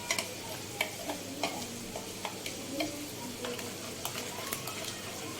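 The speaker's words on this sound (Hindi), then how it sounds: "इसमें अब सारे मसाले जो है ये हम शामिल कर देंगे और इसको मिक्स कर लेंगे" A spoon stirs spices into whisked yogurt in a bowl, giving a quiet wet mixing sound broken by a string of soft clicks and taps against the bowl, close and low in level.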